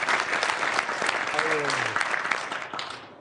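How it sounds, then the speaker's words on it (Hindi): Loud audience applause greets a poet at a Holi poetry gathering, a dense sustained wash of clapping that fills the space, with a brief voice rising over it midway before the clapping thins out at the end. "जोरदार तालियों के साथ स्वागत कीजिए वरुण चतुर्वेदी"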